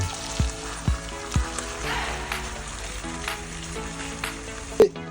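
Ground beef sizzles and fries in a hot pan, with a few sharp stirring scrapes and clinks over a steady crackle, close and moderately loud with no talking.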